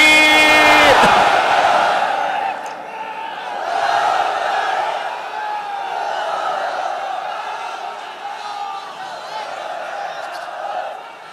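A large crowd at an outdoor Islamic sermon gathering answers a takbir call, roaring back in unison in loud, sustained chants that swell and ebb over several seconds.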